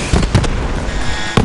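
Gunfire from the video game Borderlands 3 cracks out loudly and close, in a quick cluster of shots followed by another blast a moment later, over a dense game soundscape.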